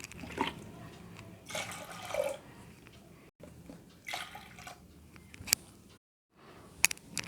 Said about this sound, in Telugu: అదే కప్పు కొలతతో 3 కప్పుల వాటర్ని ఇందులో వేస్తున్నానండి